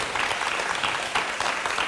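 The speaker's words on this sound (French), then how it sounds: "Notre public qui adore applaudir." Studio audience on a French TV match show applauds steadily, with a dense, even patter of many hands clapping at moderate loudness throughout the short stretch.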